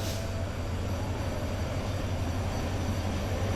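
A slow freight train rolls by near Nasirabad, Mymensingh, a steady low, heavy rumble that holds at an even level throughout, with faint rail rattle above it.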